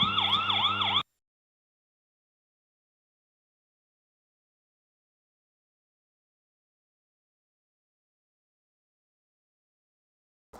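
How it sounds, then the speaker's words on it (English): A loud electronic siren from a solar-powered outdoor security camera wails briefly for about a second with a rising and falling tone, then cuts off abruptly into silence. "if you turn on the siren, it actually activates a siren on the camera."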